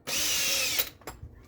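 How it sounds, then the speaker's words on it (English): A power drill with a 4mm bit bores out a hole in a Traxxas XRT part for a threaded hinge pin bolt, giving one close, high whirring burst under a second long, followed by a few soft clicks. "So we're going to use the 4mm drill bit."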